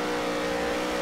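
A race car engine redlining in Nascar Heat 3, a loud, steady high-revving drone held at its limit with no change in pitch over a brief moment.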